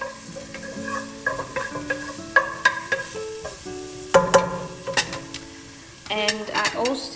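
Whole spices and cinnamon sticks fry in hot oil in a pan for a Mauritian chicken curry, with a steady sizzle broken by repeated sharp clinks and scrapes of a utensil stirring against the pan.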